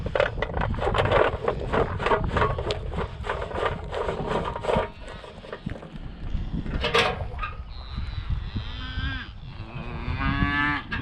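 Cattle moo repeatedly, several deep drawn-out calls from nearby animals over a busy background of shuffling and scraping.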